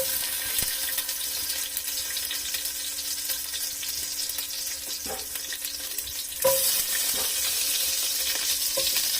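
Ginger and onion frying in a pan, a steady sizzle with occasional clinks and scrapes of a utensil against the pan, growing slightly louder toward the end.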